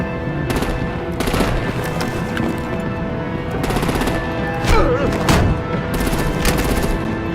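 Bursts of automatic gunfire and artillery in a Batman: The Enemy Within action scene, loud rapid volleys recurring in clusters with sharp individual shots between them.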